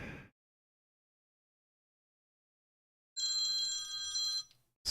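A mobile phone ringtone rings for about a second and a half after a long silence, a bright, moderately loud electronic trill with no talk over it.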